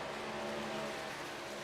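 NASCAR race car engine in a video game, a steady constant drone with a tonal whine, faint and distant throughout.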